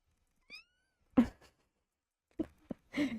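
Small cat making several tiny, soft meows close by, short separate chirps and mews spread out with quiet pauses between them.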